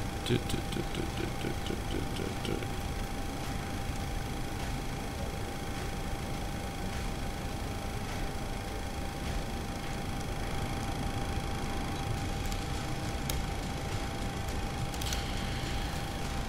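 Jet engine of an IXEG 737-300 in the X-Plane flight simulator starting up: the right engine gives a steady, loud, even whine and rumble that fills the whole stretch with no talking.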